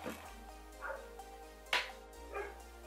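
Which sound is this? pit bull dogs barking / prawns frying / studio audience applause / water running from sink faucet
pit bull dogs barking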